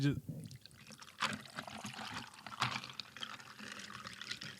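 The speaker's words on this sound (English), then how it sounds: "Let me pour some water real quick." Water is poured into a glass, a soft trickling splash at a moderate distance, with someone talking over it.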